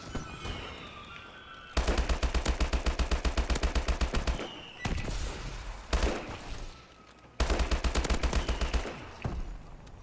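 Rapid automatic weapon fire in the video game Call of Duty: Advanced Warfare during a team deathmatch, loud repeated bursts of fast shots separated by short pauses, with scattered game effects between them.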